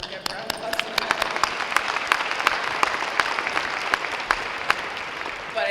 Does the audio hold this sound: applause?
yes